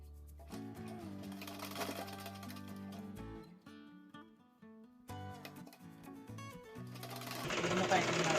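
A domestic sewing machine stitches piping onto a baby's garment in quick whirring bursts that stop and restart, while someone talks over the work.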